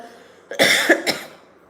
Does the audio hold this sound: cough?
yes